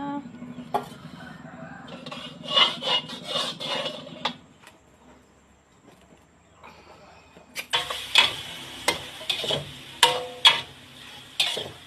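Mixed meat with holy basil stir-fried in a pan: bursts of sizzling and scraping spatula strokes come in two busy stretches separated by a quieter pause, with a faint low background hum.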